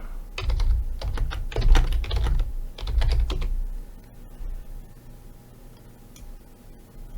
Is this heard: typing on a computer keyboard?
yes